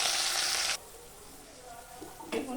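Onions frying in oil for a jackfruit biryani cooked at home, a loud steady sizzle for the first moment that then drops away, returning briefly near the end.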